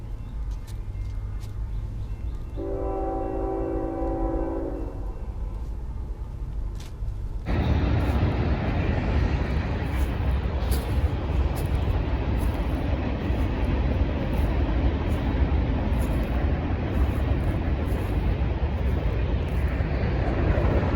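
A low hum and a brief tonal chime give way to a loud, steady rumble and rattle of a train rolling past nearby at a cemetery in Weatherford, Texas, continuing without letup.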